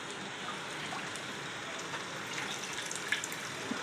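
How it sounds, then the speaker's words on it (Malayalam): Water from a mixer jar is poured into a bowl of masala for a Moglley chicken curry, a faint, steady trickle with a few small splashy clicks near the end and no talking. "ഈ മസാലയിലേക്ക് നമ്മളുടെ ആ മിക്സിയിലുണ്ടായിരുന്ന നമ്മൾ എടുത്ത് വെച്ചിരിക്കുന്ന വെള്ളം കൂടെ ചേർത്ത് ഈ വെള്ളം ഇതിലേക്ക് നമുക്ക് ഒഴിച്ചു കൊടുക്കാം."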